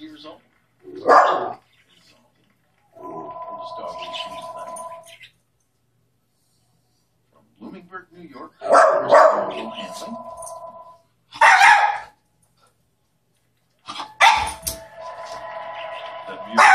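Schipperke dog barking in a few short, sharp bursts separated by pauses, mixed with intermittent steady electronic tones, fairly close.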